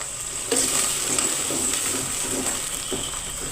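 Garlic, green chili and curry leaves sizzle and crackle in hot oil for lemon pickle, with steady close frying hiss and a few scraping stirs, no voices.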